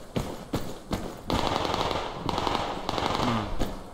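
Automatic AK rifle fire from the online shooter Survarium, loud and close. Sharp single cracks come first, then sustained bursts that rattle on with brief gaps between them.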